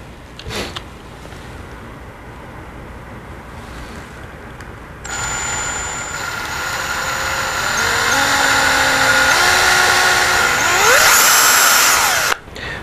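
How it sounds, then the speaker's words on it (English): A power drill bores holes into the body mount of a Traxxas Slash RC truck, starting with a sudden loud whine that holds steady, with pitch steps as it bites, then cuts off abruptly. "Once you have the 2 holes drilled in the body mount, then it's easy to get to the screws to get the gearbox off."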